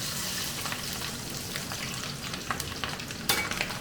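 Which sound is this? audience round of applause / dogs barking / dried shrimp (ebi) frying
dried shrimp (ebi) frying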